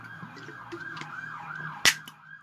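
An ambulance siren wails in repeated rising and falling sweeps at moderate distance, steady under a low road rumble, with a brief sharp knock cutting through near the end.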